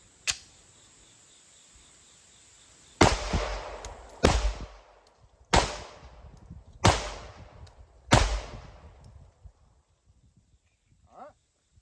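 Pistol fired with 124 grain CCI Blazer Brass through a PMM micro comp on a range: one sharp shot, then five loud cracks spaced about a second apart, each with a short echoing tail.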